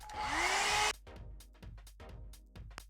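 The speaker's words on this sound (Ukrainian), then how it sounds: "Беру фен і сушу брови." A hair dryer drying glued-down eyebrows during drag makeup blows loudly and steadily for about a second, then cuts off, leaving quieter scattered clicks and rustling.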